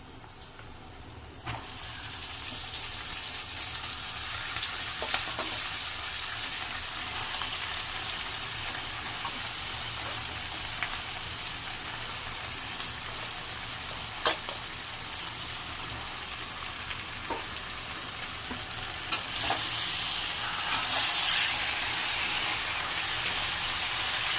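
Amaranth leaves frying in a pan with already cooked onions, a steady broadband sizzle running throughout with occasional stirring clicks and a louder crackle near the end.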